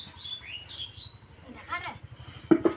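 Sparrow chicks in a nest indoors give thin, high chirps close by, a short run of twittering calls that leads into a voice speaking near the end.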